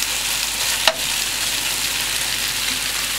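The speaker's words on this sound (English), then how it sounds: "Let that cook for about 3 minutes to cook the flour that we added" Thick flour mixture sizzles steadily in a pan on a boat's galley stove, a constant close hiss, with one brief clink of a utensil near the start.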